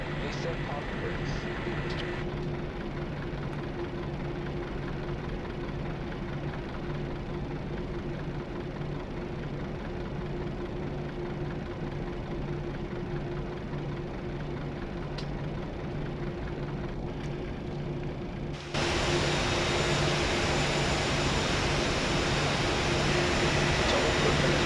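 Boeing 737 engines of a Southwest airliner in the Flight Simulator 2004 game, a steady broadband roar and hum that continues throughout and suddenly gets louder and brighter near the end.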